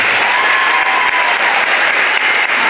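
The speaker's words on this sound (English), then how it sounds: "Ladies and gentlemen, please give Norman another round of applause." Sustained, loud audience applause fills a high-school NJROTC change of command ceremony, a dense continuous clapping with a brief whistle rising above it and no pauses.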